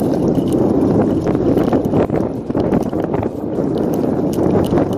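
A Varla Eagle One Pro electric scooter rides off-road over grass, producing a continuous loud rumbling, thumping rattle with wind noise and no talk.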